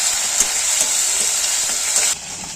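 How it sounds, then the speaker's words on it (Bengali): Ground boiled onion paste for a prawn malai curry sizzles steadily in a pan while being stirred, with a bright hiss, soft rhythmic stirring strokes, and a sudden drop in sizzle near the end. "পেঁয়াজটাকে নেড়ে একটু বেশি সেদ্ধ করে ভাজতে হবে"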